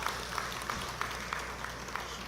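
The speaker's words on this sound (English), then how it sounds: "I want you to give yourselves a round of applause." A crowd at the Tobago People's Party manifesto launch rally for the THA election gives a steady round of applause, dense and continuous with a few sharper claps standing out over a low hum.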